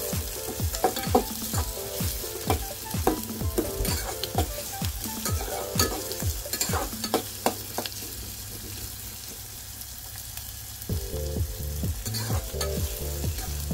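Chopped onion sizzles and fries in a hot pan for a Maharashtrian anda bhurji curry, with steady crackling, rhythmic scrapes of a stirring spoon, and a brief quieter pause before the sizzle surges back.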